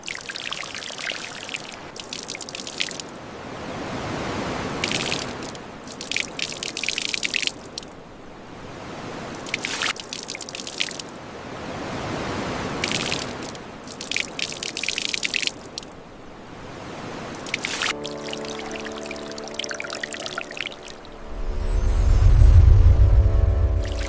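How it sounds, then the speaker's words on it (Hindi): Water poured by hand over a person and a clay statue beside the sea, a series of splashing pours in repeated bursts, fairly close, ending with a deeper low rumble. "अब तुम मुझ पर और पुतले पर दोनों पर ही एक साथ पानी डालो।"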